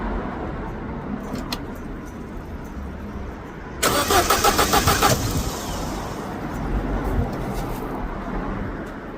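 A Vauxhall Corsa engine cranks without starting, its starter giving a loud, rapid rhythmic churn for about two seconds amid quieter background noise.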